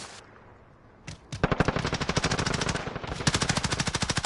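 Rapid automatic gunfire in Call of Duty, a short shot followed by a fast, evenly spaced burst, a brief break, then another sustained burst, loud and close.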